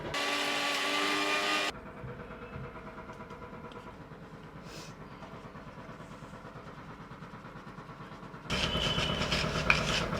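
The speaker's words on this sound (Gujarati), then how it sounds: "એને ફરીથી વળી પાછો મિક્સરમાં નાખી દેશું" An electric mixer grinder whirs loudly while grinding garam masala spices for tea, with a strong motor whine at the start and end and a quieter, steady rumbling hum between the bursts.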